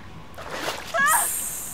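A character in the video game Until Dawn wades into deep, cold water, giving a sloshing splash partway through, with a voice talking over the start.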